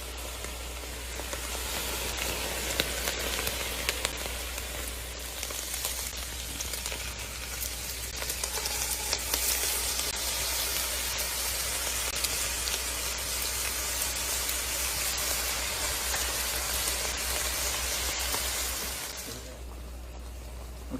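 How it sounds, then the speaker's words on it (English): Chopped vegetables sautéing in a pan with drained browned meat, giving a dense, steady sizzle and hiss, close and continuous for about twenty seconds with light stirring, then stopping abruptly near the end. "Now we're gonna saute these until they get soft."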